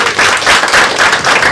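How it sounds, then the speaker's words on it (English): Audience applause at a conference talk, a steady dense wash of many hands clapping, loud and continuous for the short stretch with no voices above it. "so a round of applause."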